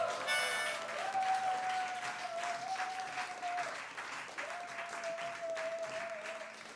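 Audience applause at a live concert by a band, steady clapping from a crowd that runs for several seconds while sustained notes ring over it.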